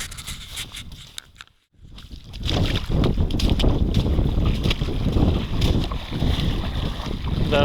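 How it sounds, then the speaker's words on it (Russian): Fishing boats being dragged across the shallows and launched onto the low-water Chulym River. A brief near-silent gap gives way to continuous, loud scraping and rushing noise with some wind buffeting, and no voices. "Пускать лодки на воду."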